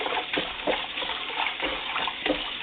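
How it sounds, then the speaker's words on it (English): Tap water runs in a steady, faint, splashing stream over raw chicken in a home kitchen as the vinegar is rinsed off, with a few soft surges. "we're gonna turn the water back on that chicken"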